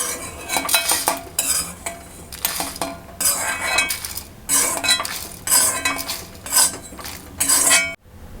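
Dry-roasted coriander, cumin and fennel seeds are scraped from a pan onto a plate with a metal utensil, giving repeated close clinks and scrapes in bursts. Everything stops abruptly at the end.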